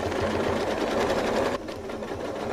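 A sewing machine runs at a fast steady stitching rhythm while quilting with a ruler, close and clear, then slows slightly near the end, with no talking.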